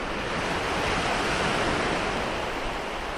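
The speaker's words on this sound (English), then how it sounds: "that's the Pacific Ocean" Pacific Ocean surf washing onto a sandy beach makes a steady, dense roar of rushing water and wind, constant and loud with no voices.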